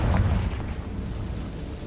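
A Confringo fire-blast spell cast in the Hogwarts Legacy video game, a deep, rumbling explosive boom that fades into a low roar over about two seconds.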